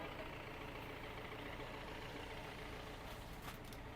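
A Gurukrupa Tours and Travels Traveller van sits idling, its engine giving a steady, continuous low rumble with broadband noise that holds even throughout, and no one speaks over it.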